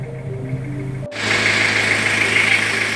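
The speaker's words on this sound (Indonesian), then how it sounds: "mesin diesel 2500 cc punyanya Kijang Krista ya" A Toyota Kijang Krista 2002 with a 2500 cc diesel engine idling in the engine bay, a steady mid-pitched hum that grows louder and fuller partway through, as if the hood opens, then holds an even drone.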